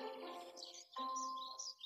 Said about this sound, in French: c'est un moineau qui gazouille tout près